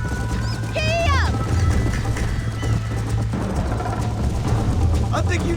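Rhythmic clip-clop of galloping hooves under steady ambient noise, with a horse whinnying briefly near the start and again near the end, in the video game Red Dead Redemption.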